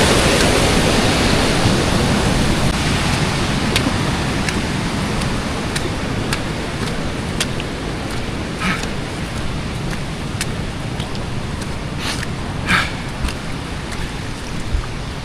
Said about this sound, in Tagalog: Buti, hindi gaano malakas yung tubig.